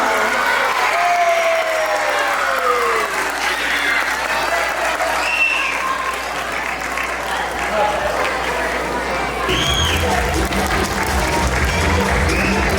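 An audience at a Women's History Month school assembly claps and cheers in a continuous loud wash, with voices and crowd noise mixed under the applause.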